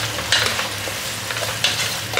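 Potato and brinjal are stirred in ghee in a hot pan, with a steady close sizzle and frying hiss broken by soft scraping strokes of a spoon. No one talks.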